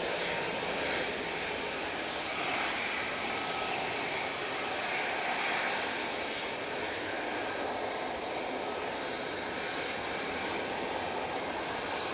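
An easyJet jet aircraft taxiing at Manchester Airport makes a continuous, moderately loud engine rumble and hiss that holds steady with slight swells, with no voices over it.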